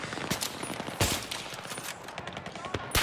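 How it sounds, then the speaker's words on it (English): Gunfire in the video game Battlefield 3 comes as scattered sharp shots and short bursts, some close and loud, others fainter, with a voice briefly heard among them. "Shots are everywhere."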